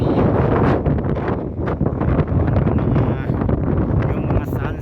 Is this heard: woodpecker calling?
no